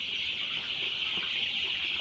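A flock of Sonali chickens on a poultry farm fills the air with a dense, unbroken wash of high chirping and clucking, steady and moderately loud with no voices.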